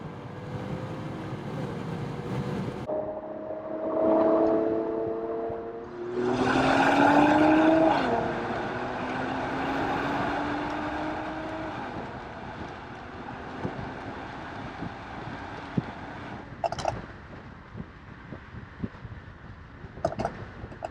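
A tuned Mercedes C400 accelerating hard through second gear, its engine note rising steadily and loudly over wind noise, with a shift and fading cabin rumble afterward.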